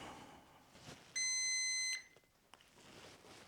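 A Breville Smart Oven XL countertop oven gives a single steady electronic beep of just under a second right after being plugged in, clear over quiet room background.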